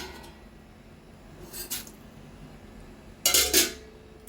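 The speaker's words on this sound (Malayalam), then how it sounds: "ഈ സേമിയ ഇതിലേക്ക് ഇട്ട് കൊടുക്കാം" Dry vermicelli tipped into a pan of boiling milk for custard, heard as two brief rustling, clattering bursts a couple of seconds apart against a quiet kitchen background, with no talking.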